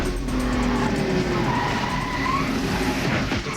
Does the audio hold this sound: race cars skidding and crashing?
yes